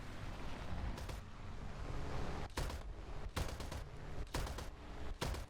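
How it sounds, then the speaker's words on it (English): A P-400 aircraft in a video game fires its machine gun and cannon in sustained rapid bursts, with a steady dense rattle broken by short gaps, loud and close, and no voices. "let's go with the machine gun. Let's go with the cannon."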